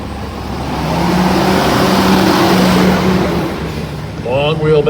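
Semi trucks racing side by side in a truck lane, including a black, silver and red custom truck, make a loud, sustained engine roar that swells and holds across the clip while an announcer talks over it.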